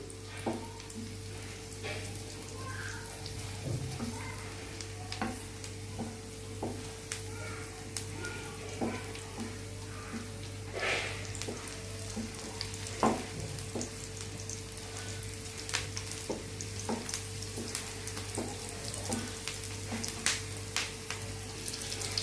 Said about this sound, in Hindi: अब मैं जब तक ये प्याज लाइट ब्राउन तक नहीं हो जाता तब तक मैं इसको फ्राई करूंगी